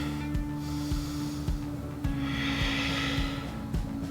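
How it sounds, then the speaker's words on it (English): A deep breath taken during a power vinyasa yoga flow, a slow airy inhale and exhale heard close, over a low steady hum and soft thumping music. "Deep breath."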